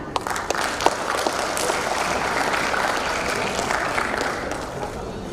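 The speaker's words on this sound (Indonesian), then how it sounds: "Tepuk tangan." Applause from an audience at a graduation reception for a faculty of social and political sciences, a steady wash of clapping lasting several seconds at moderate level with no talk over it.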